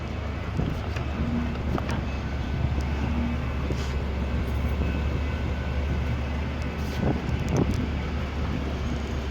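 A train rolls past at a rail crossing, a steady broad rumble with some wind holding level throughout, no voices over it.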